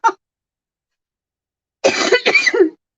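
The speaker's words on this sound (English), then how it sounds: "I've got a bit of a nasty cough at the moment." A person with a nasty cough gives one short, sharp cough, then a longer burst of harsh coughing and throat clearing about two seconds later, close and fairly loud.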